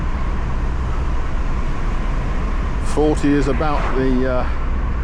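A Mazda MX5 engine lugs in sixth gear at about 40 mph, a steady low drone with road and wind noise running the whole way, while someone talks briefly over it near the end.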